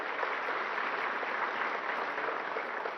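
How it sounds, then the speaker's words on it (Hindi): A large crowd at a government farmers' event gives loud, continuous applause for a natural-farming certificate presentation, a steady wash of clapping with no break. "जोरदार तालियां"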